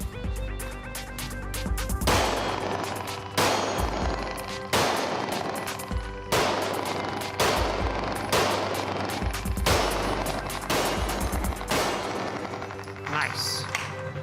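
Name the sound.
gunshots fired at three shooting targets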